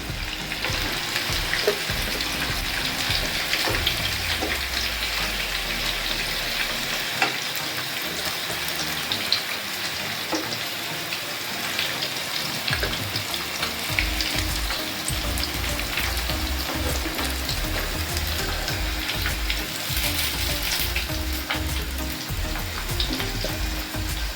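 Fish fingers deep-fry in oil, a loud dense sizzle like heavy rain that runs without a break, close by and with no one talking.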